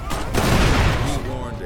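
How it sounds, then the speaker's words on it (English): Explosions and a rattle of gunfire from an Xbox One game, booming and dense for nearly two seconds and loud in the foreground, with a voice briefly underneath. "Yep, they redid the explosions."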